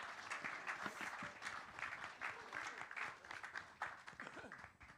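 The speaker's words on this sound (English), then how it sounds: "Let's give her another round of applause." Sustained applause from an audience at a live music listening room venue, dense clapping that swells and fades slightly over several seconds.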